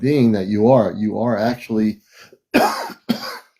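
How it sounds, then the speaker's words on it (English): After a stretch of someone talking, two sharp, close coughs from an allergy break out one after the other. "It's just me coughing."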